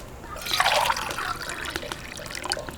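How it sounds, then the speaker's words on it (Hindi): Water pours into a biryani cooking pot, a close splashing trickle that swells in the first second and then settles into a steady softer flow. "डालो पानी"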